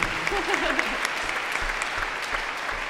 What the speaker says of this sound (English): If you clap loudly enough, he'll hear you.